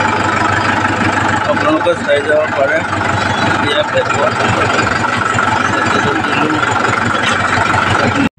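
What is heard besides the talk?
tractor engine running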